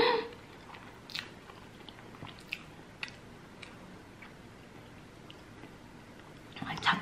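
Close, quiet chewing of pizza, with soft intermittent crunches and wet mouth sounds spread sparsely over a near-silent background.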